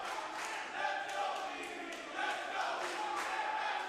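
A wrestling crowd at the World Gym Arena during a live pro wrestling show chants "Let's Go Phoebe" in a steady, rhythmic roar that swells and repeats, filling the hall from a distance.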